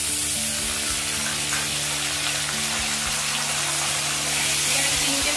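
Grated onion frying in hot oil for a Bengali fish kalia, a dense continuous sizzle with faint crackling and a low steady hum underneath, heard up close without speech.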